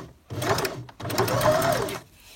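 Close sewing machine stitching a drawstring bag seam: a short burst of stitching, a brief stop for a small back-and-forth, then another steady run before it stops.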